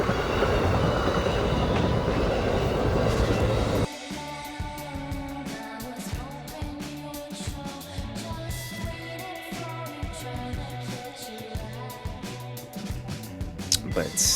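An Amtrak train passes close by with a loud roaring rush that cuts off abruptly into a rhythmic clatter of wheels over rail joints, with faint squeals, continuing steadily to the end.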